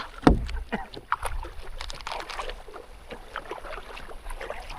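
Oars dipping and pulling through water as a rowboat is paddled at a resort, with splashes and knocks in an uneven rhythm up close, faint voices and wind in the background.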